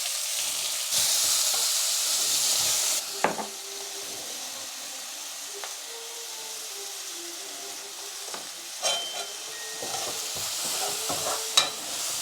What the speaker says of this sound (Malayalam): ഇഞ്ചി വെളുത്തുള്ളി പേസ്റ്റ് കേട്ടോ.